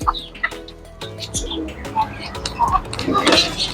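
Clucks and short calls of a female silver pheasant sound close by, with chirps mixed in and a person talking over them, at a bird farm.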